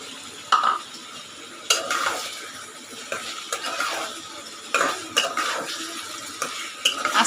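Ash gourd and shrimp are being stirred and sautéed in a pan, with a steady oily sizzle broken by repeated scraping clinks of the spatula against the pan.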